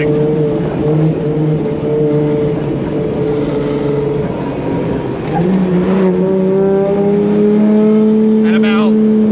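A loud 2JZ-swapped BMW E30 engine on rolling anti-lag drones steadily, shifting pitch as it pulls in second gear, over a constant rumble of road and wind noise.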